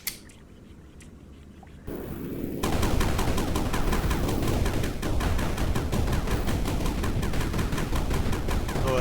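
Rapid continuous gunfire in a video game, a fast even stream of shots that starts after a couple of quieter seconds and keeps going loud and steady to the end.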